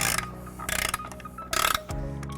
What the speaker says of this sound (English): We'll be using a 15mm socket.